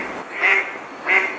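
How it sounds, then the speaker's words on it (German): Ducks at a pond in a park with small pavilions and bridges in the half-timbered town of Northeim, giving two loud, close, nasal quacks about half a second apart, with no talking. "Und hier gibt es gerade ein Entenkonzert."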